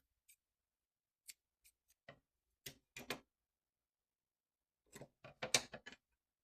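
Scissors snip through a crochet yarn tail in a run of sharp, close clicks, a few scattered single cuts, then a quick cluster of snips near the end, with no talking.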